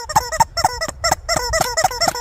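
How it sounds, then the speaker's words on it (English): A rubber chicken toy is beaten repeatedly, letting out a rapid series of loud, honking squawks in an uneven rhythm, close by with no voices. "that is a rubber chicken beatdown"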